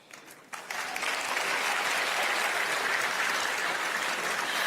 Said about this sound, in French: Merci de les applaudir encore